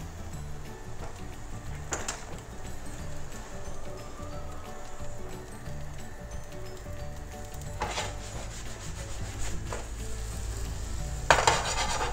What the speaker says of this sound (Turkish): Bir tarafı kısarınca diğer tarafı da kızartacağız.